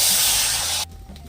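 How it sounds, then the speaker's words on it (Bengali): Water poured into a hot wok on a stove gives a loud, steady hiss of spray and steam for under a second, then cuts off abruptly to a quiet background. "কড়াতে আমি সামান্য মতো জল দিই"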